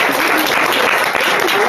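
Steady, loud applause from a lecture audience after a talk by the Rwandan ambassador, dense and continuous with no gaps, heard up close throughout.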